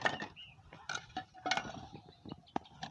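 Rusty tin cans and metal pots dug up while metal detecting, handled and knocked together in a series of close, irregular clinks and metallic clanks.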